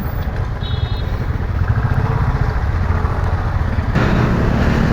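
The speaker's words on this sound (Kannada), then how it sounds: "ಇವತ್ತು ನಮ್ಮ ಹತ್ರ ಡ್ಯೂಕ್ 390 ಇದೆ. ಪವರ್ ಪುಲ್ಲಿಂಗ್ ಪವರ್ ಮಸ್ತ್ ಇದೆ." KTM Duke 390 motorcycle being ridden, a steady loud engine drone with broadband road and wind rumble throughout, the tone shifting slightly near the end as the bike pulls.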